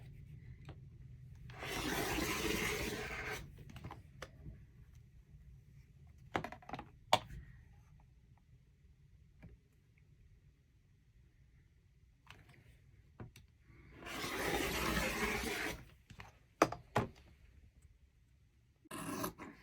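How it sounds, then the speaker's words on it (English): Fabric pieces for a crossbody bag are cut on a flat surface, giving two longer rasping, scratchy cutting passes with soft taps and handling noises between them, close and quiet. "when I'm cutting out these pieces, I generally like to keep it as flat as I can on the surface so that the fabric doesn't pull one way or another"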